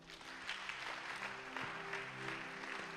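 A church congregation at a worship service claps continuously, a fairly faint, even patter of many hands from start to finish, over a low sustained organ-like tone.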